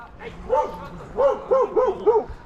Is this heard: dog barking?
yes